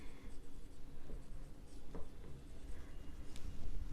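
Chalk or marker writing on a board during an accounts lesson, faint short scratching strokes over a steady background hiss of room noise.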